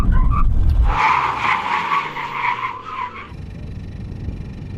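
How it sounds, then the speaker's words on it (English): A Japanese sports car stops hard in a brake test, its tires locking and squealing in a loud warbling screech for about two seconds before the ABS pulses in. Engine and road noise surround the squeal. "ABS on this car kicked in quite late. It locked up and then it decided, oh, I might work now."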